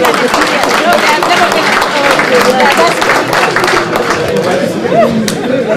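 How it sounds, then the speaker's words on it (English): Dense applause from an audience at a bankers' award ceremony, steady and loud throughout, with crowd chatter and voices mixed in. "Give yourselves a big round of applause."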